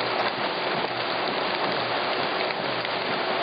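Heavy rain pours during a hailstorm with 1 cm hail over flooded streets, a loud, dense, continuous hiss of drops drumming on surfaces with no voices.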